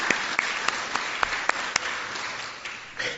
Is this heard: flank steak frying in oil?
no